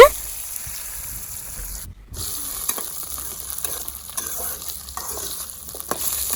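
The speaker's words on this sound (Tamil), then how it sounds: "நெக்ஸ்ட்டு அந்த கட் பண்ணி வச்ச பெரிய வெங்காயமும் சின்ன வெங்காயமும் அப்படியே போட்டுக்கலாங்க" Chopped big onions and small shallots fry in a pan with peppercorns and are stirred. A steady close sizzle runs under scraping and stirring, with a brief break partway through.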